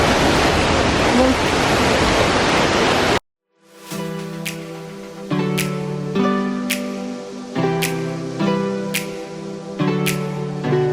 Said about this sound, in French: Il y avait une putain de grande cascade